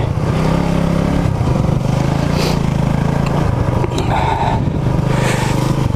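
A Honda CB250RS motorcycle rides off-road with a loud, continuous engine thrum, steady and close, with rattles and clatter from the bike over rough ground and no talking.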